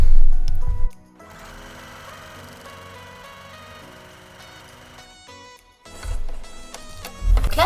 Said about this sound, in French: on va repasser à la machine et on va faire un petit point zigzag